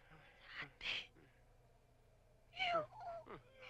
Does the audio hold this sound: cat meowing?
yes